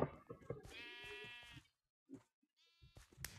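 Sheep in the video game Sheep Quest bleat in short, wavering calls, several overlapping up close, then a brief lull before more bleats return.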